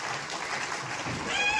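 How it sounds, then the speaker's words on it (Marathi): Crowd applause welcoming Arvind Sawant at a 75th birthday celebration for Govindrao Mohite, a dense, steady clatter of many hands that holds at an even level and swells slightly at the end. "अरविंदजी सावंत साहेबांसाठी आपण जोरदार टाळी आपण त्यांचं स्वागत करूया।"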